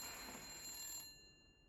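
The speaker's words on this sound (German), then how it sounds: "Telefon." Telephone ringing in the video game The Suicide of Rachel Foster: a steady electronic ring tone holds for about a second, then stops and leaves a faint lingering tail.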